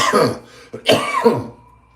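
A few harsh coughs caused by acid reflux in quick succession, close to the mic, with a throaty clearing sound and a short pause between bursts.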